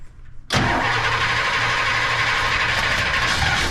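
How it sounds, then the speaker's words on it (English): A 1959 Imperial Crown's 413 V8 catches and fires up after a brief quiet moment, jumping straight into a loud, steady rumbling idle close by with no talk over it. "let's see if this baby 413 V8 fires up for us"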